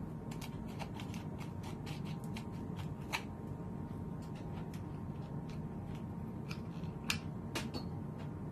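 Scissors snip through a feathered boa in quick, light, irregular cuts, each a crisp little click over a quiet room, close by and fairly soft, with no one speaking.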